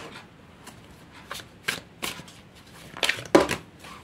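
Tarot cards are shuffled by hand in a series of crisp riffling bursts, close and fairly loud, separated by short quiet gaps over a soft background.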